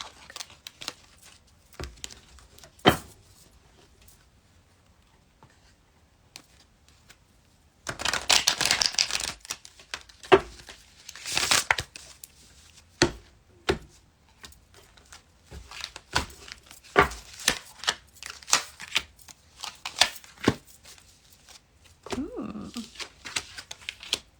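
Tarot cards being shuffled by hand, a long run of crisp riffles, slaps and soft rustles in bursts, with one dense flurry of cards, close and fairly quiet, with no talking.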